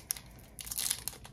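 A Topps Chrome 2021-22 soccer trading card pack wrapper is ripped open close up, giving a short crinkle, a brief pause, then a longer burst of crackling foil.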